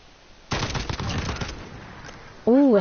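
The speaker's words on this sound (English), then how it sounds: "Ooh, it has burst fire." Burst-fire gun firing in a Modern Warfare video game, a rapid rattling volley of shots lasting about a second, followed by a short voice at the end.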